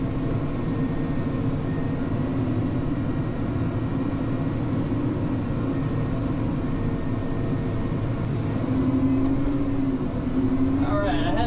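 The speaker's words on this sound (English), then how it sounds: "Driving through all this muck." Tracked truck driving through deep muck in low gear, giving a steady, close, loud rumble of engine and tracks throughout, with a person talking over it.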